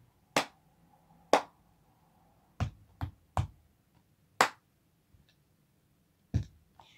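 Hand claps and table taps for the cup song, as sharp, close single hits in an uneven rhythm with quiet gaps between them and no talking.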